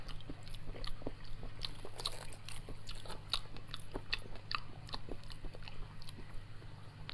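Someone eating langoustine (Norway lobster) seafood: close, crisp crunching and biting clicks in an irregular rhythm over a low steady hum, with no talk.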